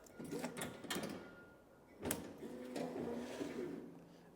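A strapping machine tightens down a strap with a mechanical whirring and clattering, broken by sharp clacks and a pause, close and fairly loud.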